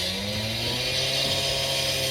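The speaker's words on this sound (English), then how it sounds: "They're cutting asphalt open out on the road." A road saw cutting asphalt out on the road drones steadily in the background, a continuous gritty whine with a grinding engine hum beneath it, with no voices.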